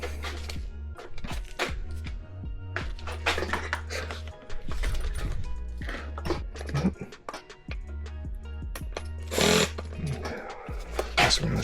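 A power hex driver on a high torque setting runs small screws into a Redcat Vigilante RC car, with repeated close whirring bursts of motor whine broken by short pauses and clicks.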